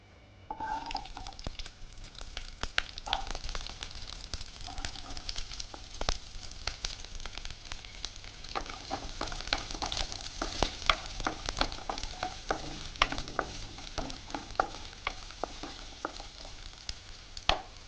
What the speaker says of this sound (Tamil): இப்போ இந்த பக்கம் வாணலி வச்சுட்டேன். அதில் கொஞ்சம் எண்ணெய் ஊற்றிக்கோங்க. அதில் சின்ன வெங்காயம் சேர்த்துக்க போகிறோம்.